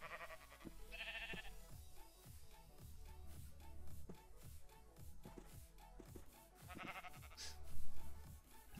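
Sheep bleats in the Minecraft video game, two short wavering calls standing out over busy background game music and footstep-like taps.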